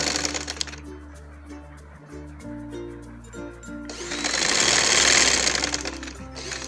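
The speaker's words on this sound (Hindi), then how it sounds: "ये देखें एक सिलाई कंप्लीट हो गई।" Sewing machine stitching baby piping onto fabric, a steady mechanical whir that picks up into a louder, faster run partway through, then slows, with no talk over it.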